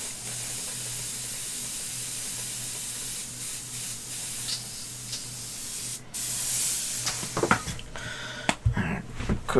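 Airbrush cleaner hisses out in a steady spray for several seconds, followed by a few short, louder blasts and small clatters close by.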